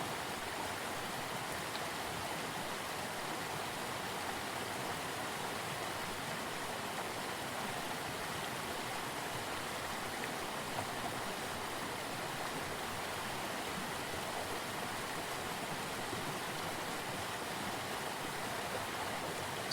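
The Mohawk River flows with chunks of ice in chilly weather, giving a continuous, even rush of water that stays steady throughout, with no voices.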